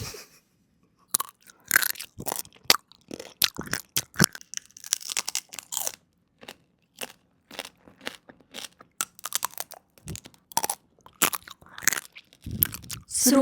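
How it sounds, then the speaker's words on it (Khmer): Crispy sweet-style roast pork crackles as it is bitten and chewed up close, with loud, irregular bursts of crunching separated by short quiet pauses throughout. "ញ៉ាំជ្រូកខ្វៃបែបស្វីត"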